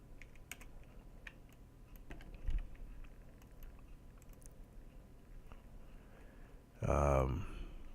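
Soft, scattered computer keyboard keypresses tap and click at a close but quiet level, followed by a louder muffled thump near the end.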